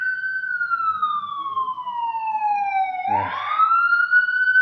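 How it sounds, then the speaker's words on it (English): A single loud, clear siren tone sweeps slowly downward, breaks with a brief burst of noise, then climbs back up, heard close and alone. "ambulance"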